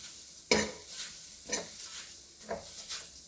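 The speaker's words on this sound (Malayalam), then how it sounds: "ക്യാരറ്റിൻ്റെ നനവ് ഒന്ന് പോകുന്നത് വരെ ഒന്ന് ചൂടാക്കി എടുക്കാം." Grated carrot being heated and stirred in a pan while making badam burfi, giving soft sizzling with several distinct scraping stir strokes spaced about a second apart, close and moderately loud.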